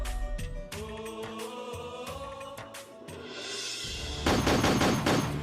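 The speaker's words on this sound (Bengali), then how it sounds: "আরে এটা তো গুলির আওয়াজ।" Gunfire rings out in a dramatized army scene as several sharp bangs scattered through the passage, ending in a louder burst of rapid shots near the end, with no talking.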